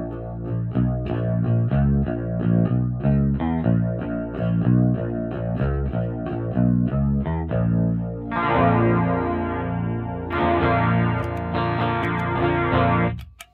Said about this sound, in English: I've got it set for what is, let's face it, quite an 80s chorus sound